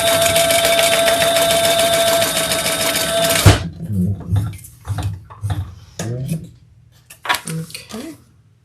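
A sewing machine hums steadily for a few seconds while stitching a crossbody bag, then stops, followed by soft handling clunks and rustles, with a voice talking nearby.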